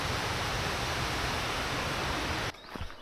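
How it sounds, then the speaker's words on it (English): A stream flows into a lake on a fern-lined hillside on England's coast to coast path, a dense, steady rushing of water that fills the air, then cuts off abruptly near the end. "lots of noise from a water stream"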